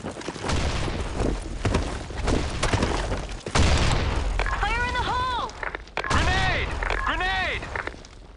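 A grenade blast in Counter-Strike, a loud broad explosion burst partway through a busy stretch of gunfire and game radio voice lines, followed by pitched bird-like tones.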